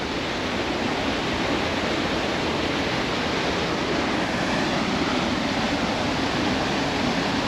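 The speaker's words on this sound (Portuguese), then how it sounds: "Aqui a cascata de Sichantumpel." Water rushing over the Schiessentümpel waterfall on the Mullerthal Trail in Luxembourg, a steady, loud broadband roar that stays constant throughout.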